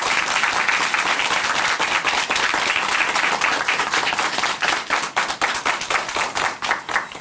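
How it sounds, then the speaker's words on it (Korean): A church television studio audience gives warm, steady applause for a woman guest, many hands clapping together in a dense wash that grows more rhythmic and thins toward the end. "우리 자매님께 다시 한번 응원의 박수 보내드리겠습니다"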